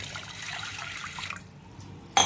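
Water pours into a vessel of washed lentils (dal), a brief splashing trickle that fades after about a second, followed by a sharp clatter at the end.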